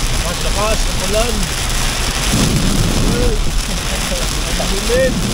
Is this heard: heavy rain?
yes